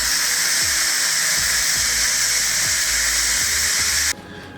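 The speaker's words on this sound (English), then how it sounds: "It took probably 5 minutes for the pressure release" Steam venting loudly from an Instant Pot pressure release during cooking of Italian sausage and bell peppers, a steady close hiss that cuts off abruptly near the end, with faint clicks beneath.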